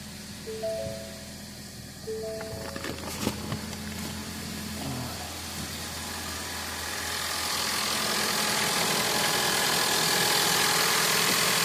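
A 2.0 Ford EcoBoost engine cranks over with a few starter bursts, catches, and settles into a steady idle that grows louder and fuller toward the end, with no talk.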